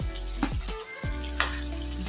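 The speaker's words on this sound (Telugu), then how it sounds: "ఇప్పుడు మనం దోసకాయ వేసి ఫ్రై చేస్తాం." Cucumber pieces frying in a pan make a brief, moderate sizzle with a couple of stirring knocks, under faint tonal background music.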